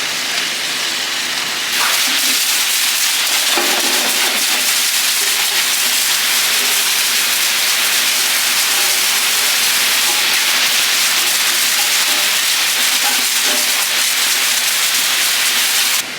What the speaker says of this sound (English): I just want to show you guys the wash water going through.